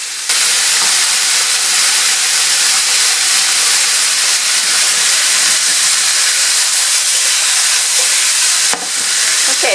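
Vegetables caramelizing in a pot for beef stew, a loud, continuous hissing sizzle with little variation and a brief dip near the end.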